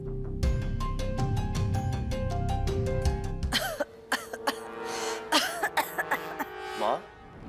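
A woman coughs several times in short, separate bursts after a stretch of tonal music fades, the coughs close and fairly loud.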